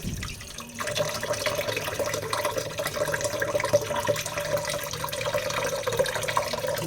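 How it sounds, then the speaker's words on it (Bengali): Water runs steadily from a kitchen tap while raw meat is rinsed under it, a constant moderate splashing stream with no voices. "আমার মাংস ধোয়া হয়ে গেছে, ভালো করে মাংসটা ধুয়ে নিই"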